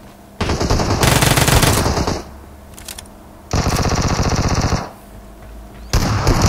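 Gunfire in a battle royale video game, with the player holding a shotgun: loud, close bursts of rapid shots in three separate volleys, with short quiet gaps between them.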